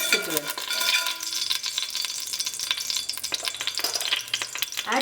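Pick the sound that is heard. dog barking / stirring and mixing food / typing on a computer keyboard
stirring and mixing food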